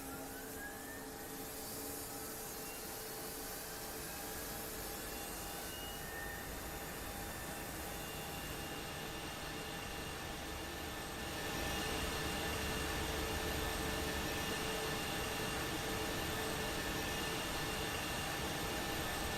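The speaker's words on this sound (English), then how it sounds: "We are ready for engine start." Airbus A220 jet engine starting up in Microsoft Flight Simulator, a steady broadband roar with rising whining tones that grows louder partway through and keeps running with no talk.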